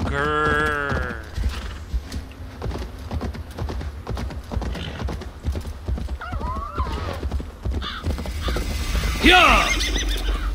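A horse in Assassin's Creed Valhalla whinnies loudly at the start and again near the end, between stretches of clip-clopping hooves, close and prominent, with creaking tack and a brief voice mixed in.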